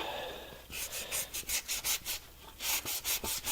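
Wood is sanded by hand in quick back-and-forth strokes, about a dozen close, rhythmic rasping rubs in two bursts with a short pause between, no talking.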